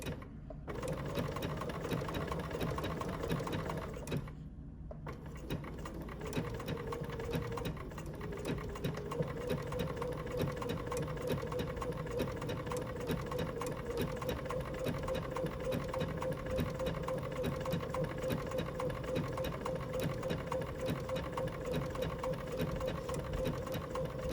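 A sewing machine stitches slowly and steadily with a continuous close mechanical whir and rattle, pausing briefly near the start before running on evenly.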